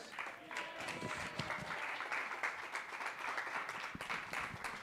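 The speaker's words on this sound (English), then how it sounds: "Give her another big round of applause." An audience at Atlanta Magic Night applauds a magic show performance, a dense, continuous patter of clapping heard from some distance and fairly faint.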